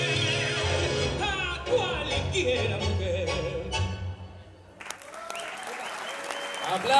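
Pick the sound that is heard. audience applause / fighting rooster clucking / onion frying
audience applause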